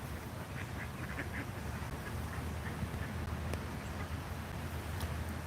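Several ducks quack in short bursts at a distance outdoors, fairly faint over steady background noise and a low rumble, with no talking.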